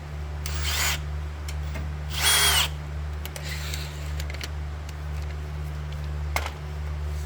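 A power drill whirs in a couple of short bursts over a steady low hum, drilling out a rotted Schrader valve, with scraping and rubbing sounds between them, close by.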